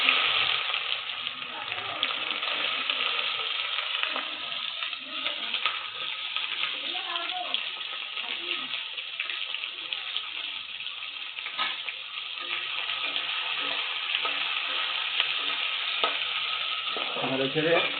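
Chopped onions sizzle in a pan for a chicken curry, a dense steady frying hiss that runs for the whole stretch, with occasional spatula scrapes as they are stirred.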